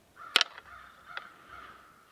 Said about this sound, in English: Except for the crows.